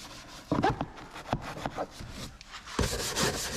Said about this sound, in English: I'll grab a brush, come in here, I'll scrub the panel down.